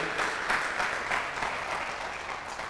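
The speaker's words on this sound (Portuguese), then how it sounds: "Dá mais um aplauso aí." Church congregation applauding during a sermon, a steady, dense clapping that holds at an even level for a few seconds, with no speech over it.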